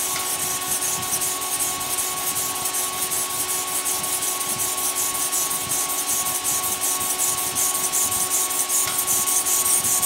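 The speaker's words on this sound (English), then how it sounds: "This is a 800 grit Kingstone." A file-made tanto fighting knife is stroked back and forth across an 800 grit Kingstone whetstone, giving a close, steady, rhythmic scraping and rubbing that runs continuously with no voices.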